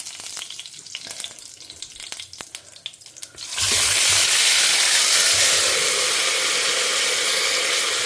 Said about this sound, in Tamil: கொஞ்சம் நேரம் அது தெரித்து முடியட்டும் அந்த ஜெலெல்லாம்